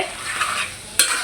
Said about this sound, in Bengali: মাংসটা ভালো করে নেড়ে চেড়ে দিব, যাতে মশলার সাথে সবগুলো মশলার সাথে মাংসগুলো ভালো করে